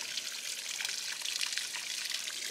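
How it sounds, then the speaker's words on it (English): Water rushes steadily through a hose hookup feeding an OMC 4.3 boat engine on dry land, a continuous close hiss and trickle with no talking. "All right, got the water all hooked up."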